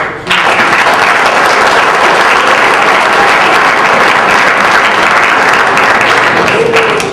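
A large banquet audience at a high school fall sports award night applauds loudly and steadily, a dense continuous wash of clapping that starts abruptly and holds throughout.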